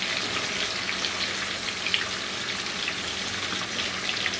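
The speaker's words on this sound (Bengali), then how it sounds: "হাই হিটে মাছগুলো দিলাম। এখন আমি মিডিয়াম হিটে এটাকে ভেজে নিব।" Coral fish frying in hot oil over medium heat, a steady dense sizzle with fine crackles, close and continuous without talk.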